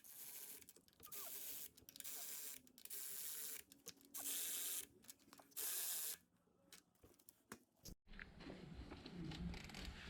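A ratchet with a 24 mm socket snugs up nuts while a 12-valve 5.9 Cummins cylinder head goes back on, giving several bursts of rapid close clicking separated by pauses, then a duller clattering stretch at the end.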